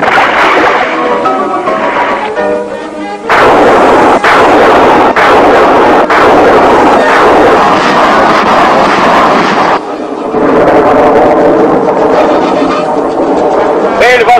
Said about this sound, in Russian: Стрельба двумя торпедами.